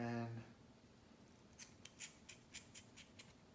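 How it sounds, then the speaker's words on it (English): Scissors snip tulle fabric for a toddler's dress in a quick run of about eight crisp, close cuts, following a short spoken phrase. "Grab the scissors and"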